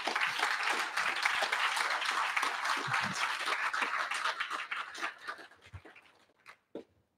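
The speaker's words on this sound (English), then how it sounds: "Please don't stop clapping." Conference audience at an AI summit applauding steadily and densely, then the clapping thins out and fades to a few scattered claps.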